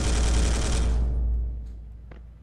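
A single dense burst of storm bolter fire from a Terminator in Space Hulk rattles loud and close for about a second, then decays into a fading low rumble with a faint mechanical click near the end.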